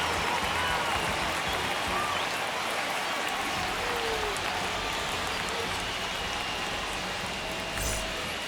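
Stadium crowd noise from a baseball video game, MLB The Show 25, a steady dense roar of cheering that stays loud and even throughout, with no break.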